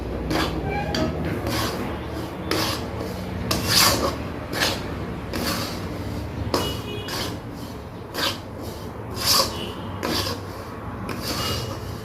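Semolina roasts in a thick-bottomed kadhai, a spoon scraping and stirring it in repeated rough rasping strokes, close and steady, with brief clinks against the pan.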